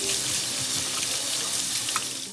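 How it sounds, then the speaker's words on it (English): Cold tap water runs steadily over drained canned chickpeas in a kitchen sink, a loud, constant hissing splash with no voices. "Drain and wash them under running cold water."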